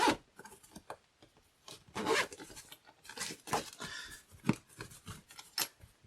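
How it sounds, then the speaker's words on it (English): A Hobbymate lipo safety bag being zipped shut, a series of short raspy zipper pulls in uneven bursts, close and alone with no talk. "So you would just zip it up."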